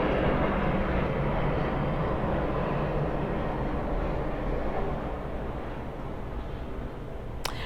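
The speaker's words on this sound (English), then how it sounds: "I'll wait until the plane passes" A fixed-wing airplane passing overhead makes a steady, broad engine roar that fills the whole stretch and slowly eases off toward the end, with no talk over it.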